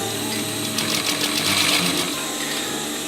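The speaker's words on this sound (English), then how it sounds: "do another stitch here all the way" A sewing machine runs a continuous, close, steady stitch while sewing a fabric rollup bag, with a fast needle rhythm and a slight swell in the middle and no talk.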